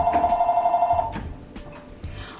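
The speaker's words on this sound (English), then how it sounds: "here goes the phone again." A telephone rings indoors at home in a steady repeating electronic trill for about a second, then fades into quieter room noise with faint clicks.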